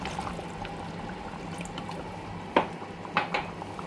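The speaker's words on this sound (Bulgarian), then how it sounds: "Време е да добавим втората чаша вода." A cup of water is poured into a pot of Bulgarian popska stew with onions and rice. A faint, steady liquid trickle is followed by a few sharp splashes and clinks near the end.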